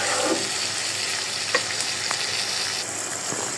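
Fish with bean seeds sizzle and fry in a pan, a continuous crackling hiss with a few soft pops and stirring scrapes, close and moderately loud with no talking.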